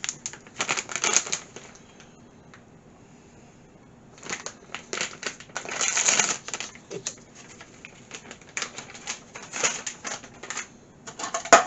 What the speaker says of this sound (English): And now I am going to add a cup of French fried onions.